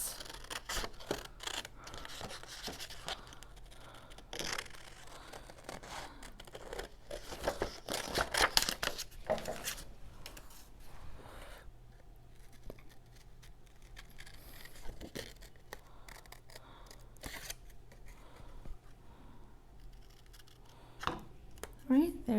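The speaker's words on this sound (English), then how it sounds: "And then I'll start cutting it out." Scissors snipping paper to cut out an origami unicorn bookmark, irregular close crisp cuts and rustles of paper with quiet handling noises, fairly faint overall.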